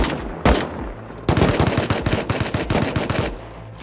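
Bursts of rapid automatic gunfire in the survival game Rust, a single loud shot followed by a sustained volley of fast repeating rounds, close and loud.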